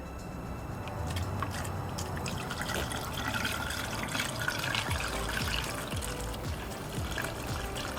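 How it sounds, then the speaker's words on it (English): Coolant poured into a BMW E46 cooling system after a thermostat replacement, giving a steady, faint trickle and gurgle of liquid running into the reservoir. "we're going to put more coolant in now"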